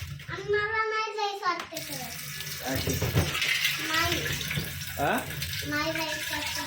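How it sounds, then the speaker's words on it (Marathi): Water pours from a filter tap into a metal kalashi pot with a continuous hiss, while an adult and someone talk over it. "आता ही कळशी फिल्टरवर भरून घेऊयात"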